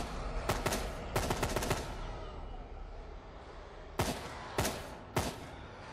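M4 rifle fire in the video game Fear the Night comes in quick bursts of sharp shots, a cluster of rapid cracks early on, then three separate single shots spaced apart near the end.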